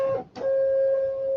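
A label printer feeds a label through with a short mechanical whir, a brief pause, then a steady motorized hum close by, with no talking.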